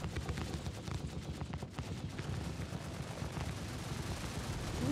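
Rapid bursts of gunfire strike a crewed Hammerhead ship in Star Citizen, a dense rolling barrage of low booms and rattling impacts that continues without a break and swells slightly toward the end.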